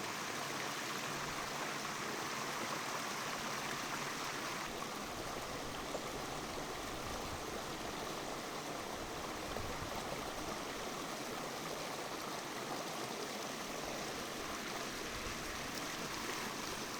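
Water rushes and churns steadily at a stream's waterfall where bluegill are fished, a dense, constant roar heard close with no talking.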